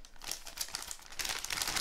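Plastic bag being handled and crinkled while unpacking a plein air sketching kit from a box, close and fairly quiet, with irregular crackling bursts for under two seconds and no talk.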